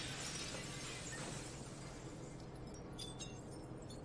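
Tempered glass shatters in a scene from the anime Cowboy Bebop, a loud crashing break that fills the opening moments and then thins into a scatter of tinkling shards and fragments, with no voices.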